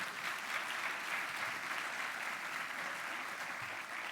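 Sustained applause from an audience at a SUNY State of the University address, steady dense clapping with no pauses, loud and close throughout.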